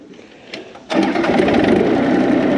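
A tractor engine being started for a lake job, a quiet cranking sputter that abruptly catches into a loud, steady, buzzing idle running close by.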